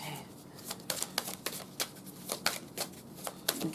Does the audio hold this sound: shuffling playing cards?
yes